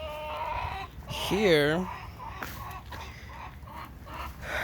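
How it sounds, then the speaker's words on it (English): Chickens cluck and one lets out a rising, warbling call close by in a garden, and a person speaks briefly over them. "Here's our little pollitos, our chickens."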